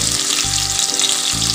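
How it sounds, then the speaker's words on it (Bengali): Black cumin seeds frying in hot oil as a spice tempering for a tilapia curry, a loud close crackling sizzle that pulses with brief low thumps throughout, no voices. "কালো জিরেটা একটু ভালো করে ভেজে নেব"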